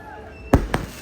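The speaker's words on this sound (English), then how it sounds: "So that was the fireworks show" New Year fireworks show in Koh Samui, Thailand, marking 2024: two sharp booming bursts about a fifth of a second apart, loud and close, over a quiet background.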